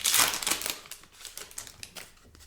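A Topps wax pack of trading cards is torn open with a burst of close crinkling wrapper at the start, followed by softer rustling and shuffling of the cards.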